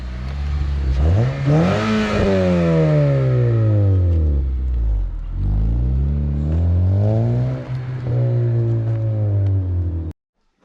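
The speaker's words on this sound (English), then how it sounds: "Give another rev." An Acura TL with a newly installed Si exhaust is revved hard several times, each rev a loud, close, rising then falling engine sweep that ends in an abrupt cutoff, with no talking.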